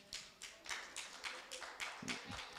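Scattered claps from a church audience at a comedic sermon on family messiness, a handful of loose, uneven hand claps at moderate distance with faint murmur underneath.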